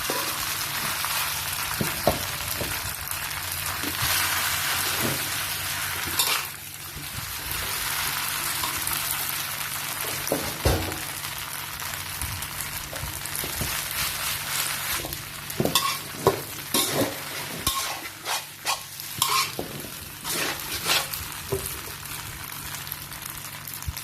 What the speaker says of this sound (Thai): ผัดก็ใช้ไฟแรงนิดนึงนะคะ